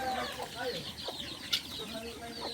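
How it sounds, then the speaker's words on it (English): Chickens cluck in a steady, busy chorus on a rural farm in a Filipino province, with a single sharp click partway through. "We got chicken."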